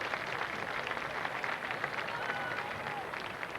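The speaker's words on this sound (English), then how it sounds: "gets a warm round of applause" A stadium crowd at a 1989 Holy Cross versus Brown college football game gives a warm round of applause as injured player Tom Condon gets up. The roar and clapping are distant and continuous, a dense steady wash.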